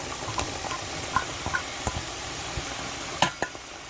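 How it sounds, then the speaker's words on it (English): Mushrooms hitting a skillet of caramelized onions, giving a steady soft sizzle with scattered stirring clicks and one sharper clatter near the end, close and moderately loud. "So next I'm going to add in my 8 ounces of mushrooms."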